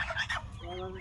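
Domestic geese on a Bangladeshi river island farm give several honking calls close by, with loud broadband honks in the first half followed by a steadier nasal tone, and a faint voice in the background.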